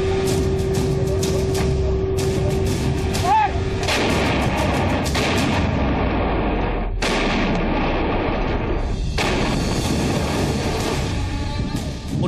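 Bofors artillery guns firing shells across the Kargil hills during the war: repeated heavy booming blasts with long rolling echoes and a rumbling undertone, loud and without speech.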